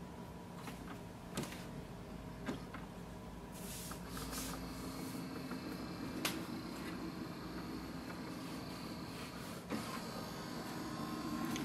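An Epson XP-5205 printer scans with a steady mechanical whir and creaking motor hum, punctuated by a few sharp clicks as the scan head moves, fairly quiet and with no talking.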